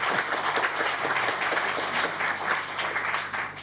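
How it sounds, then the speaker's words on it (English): Conference audience applauding a talk on the pandas Python library, a steady wash of many hands clapping from a mid-sized crowd, fairly faint and continuous without speech. "just in case you feel like giving this round of applause as in SciPy"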